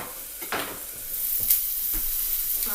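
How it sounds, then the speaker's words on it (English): Onions and garlic fry in a pot, a steady close sizzle broken by a few scraping stirs of a spoon against the pot. "Now we have our freshly fried onions and garlic"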